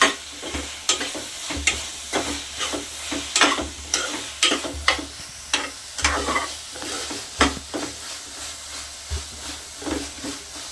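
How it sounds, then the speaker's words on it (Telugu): A spoon stirs dal khichdi in a pot, scraping and clacking in a steady series of strokes over a faint background sizzle. "బాగా కలపాలి ఆల్మోస్ట్ మన రెసిపీ అయిపోవచ్చింది"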